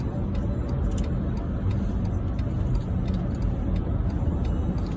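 Steady road traffic rumble heard from inside a moving car in heavy traffic, a dense low hum with faint ticking clicks above it, continuous and fairly loud throughout with no talking.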